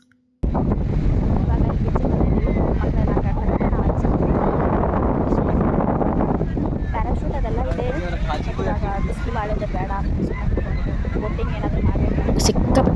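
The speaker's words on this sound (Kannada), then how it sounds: "ಗಾಳಿ ಬೀಸ್ತಾ ಇತ್ತು ನಾವು ಮಾತಾಡಿದ್ದೇನು ಕೇಳ್ತಾನೆ ಇರಲಿಲ್ಲ" Strong wind buffets the microphone continuously, a loud roaring rumble that nearly drowns out voices talking beneath it.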